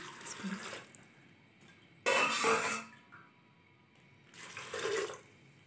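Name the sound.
water being poured into pot of mater keema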